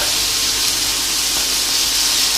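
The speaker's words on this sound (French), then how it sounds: "Alors j'essaie de répartir les morceaux dans la poêle." Seasoned meat pieces searing in olive oil in a frying pan, a loud, steady, close hiss of sizzling fat that holds evenly throughout with no talking.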